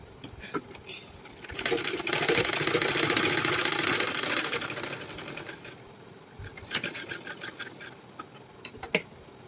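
A sewing machine stitching a lining blouse runs in a loud, steady whirring burst for a few seconds, then slows into short bursts and scattered clicks, close up with no talk.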